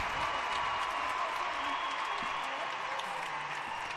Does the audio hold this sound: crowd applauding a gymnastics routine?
yes